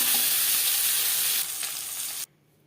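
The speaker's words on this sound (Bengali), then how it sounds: "পরের মাছ ভেজে নেব" Bata fish pieces fry in hot oil in a wok with a loud, close, continuous sizzle that eases a little partway through and then cuts off abruptly near the end.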